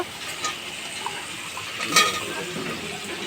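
Potatoes are stir-fried in a spice masala, with a soft continuous sizzle, occasional utensil scrapes and one sharper clatter midway, moderately close and without speech.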